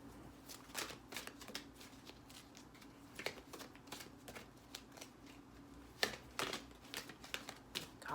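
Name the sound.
shuffling large tarot cards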